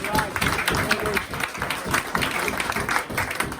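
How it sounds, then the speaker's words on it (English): Applause for young football players at a club presentation evening, a steady crowded wash of clapping with talk mixed in throughout. "So round of applause for them."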